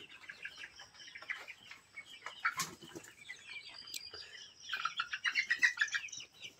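Weakened, feverish layer hens cluck and chirp softly at a distance, a flock murmuring continuously with a burst of rapid clucks near the end.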